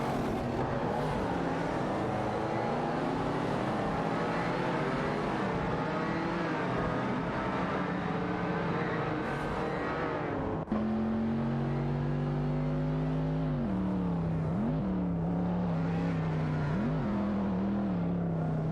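A Ferrari 512 TR and a Lamborghini Countach race in a video game, engines droning steadily with rising and falling rev sweeps, loud and continuous, a sharp shift midway to a clearer, higher-pitched engine tone.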